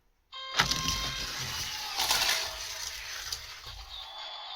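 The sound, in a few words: 1:64 diecast Lotus Esprit car rolling down race track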